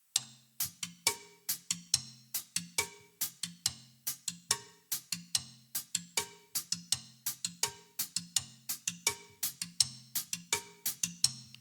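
A sparse drum pattern alternates sharp rim clicks on a tom with bright cowbell strikes, steady quarter-note pulses repeating evenly for several seconds.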